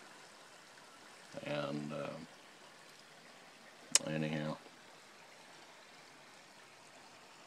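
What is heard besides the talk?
water running in a stream flowing into the Neches River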